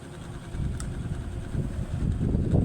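An electric fan switched on and running at its lowest speed, a steady whooshing hum with low rumble, continuous and fairly close with no talk.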